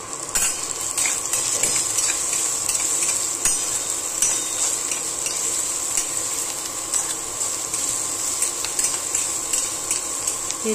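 Green chilli and garlic paste roasts in a pan for ghevda, with a close, continuous bright sizzle and crackle, occasional utensil clicks and scrapes, and no talk.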